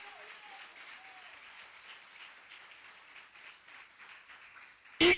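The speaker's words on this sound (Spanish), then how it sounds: "vamos, dele fuerte esa ofrenda de palmas a Él" Church congregation giving a round of applause during an anniversary service, steady distant clapping spread across the room, fairly faint and continuous, ending with a sudden loud bump.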